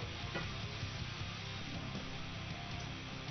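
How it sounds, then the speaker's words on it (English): Onions sizzling in good-quality olive oil in a pan, a steady faint frying crackle with slight stirring texture throughout, no voices. "In this case, just throw in the onions automatically"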